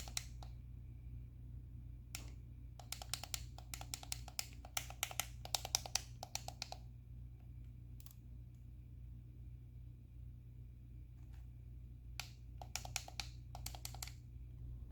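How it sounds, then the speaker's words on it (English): Membrane face buttons on a Retroflag handheld controller pressed in quick clusters of soft clicks, close up, with a steady low hum underneath and short pauses between bursts. "We have membrane face buttons, which won't sink flat with the shell when fully pressed."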